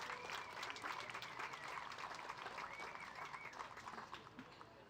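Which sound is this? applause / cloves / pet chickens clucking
applause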